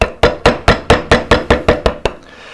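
A V-tool struck with a mallet carves a big scoop in a wooden waterleaf moulding, about ten sharp, evenly spaced knocking taps close up, then a faint scrape.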